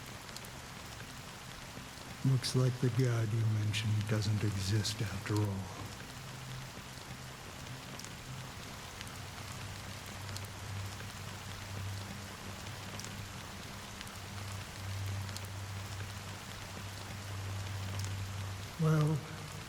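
Steady rain falls in the game Honkai Star Rail, a continuous hiss under the scene, with a voice speaking briefly early on and a low musical drone sustained through most of the stretch.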